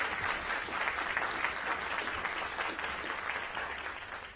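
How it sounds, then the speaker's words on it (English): Applause from the audience at a school board meeting honoring a staff member, a steady wash of clapping from many hands that holds evenly before tapering slightly. "Yes, big round of applause"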